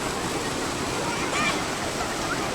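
A waterfall in Konkan, Maharashtra, still running full in late May, roars as a steady, loud, close wash of rushing water throughout.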